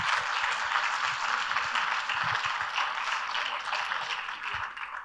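Steady applause from an audience at an event in Saintes, France, dense continuous clapping that holds for the whole stretch without speech over it.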